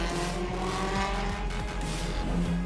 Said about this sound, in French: la Lancia Stratos restaurée est aujourd'hui pilotée par Philippe Vendrome